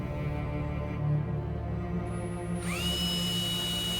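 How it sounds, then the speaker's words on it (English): A drill bores lengthwise through a block of Purple Heart, a South American hardwood, making a steady grinding whine with a continuous motor drone and a rising pitch sweep near the end, with no talking. "the hole for the tang is drilled through the length of the piece"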